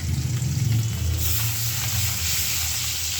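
Foli fish frying in hot oil in a pan gives a steady loud sizzle, with a brief burst of rustling and shifting as the fish is flipped early on, then the even hiss continues.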